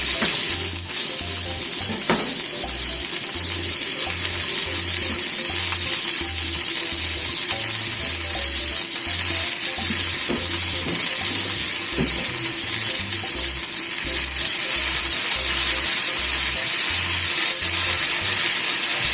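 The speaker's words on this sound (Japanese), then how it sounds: "下茹でしてアクを取った 芋の粒をごま油で炒めます" Blanched sweet potato stems stir-fry in sesame oil, giving a loud, continuous sizzle with rhythmic scraping and tossing in the pan and no talk.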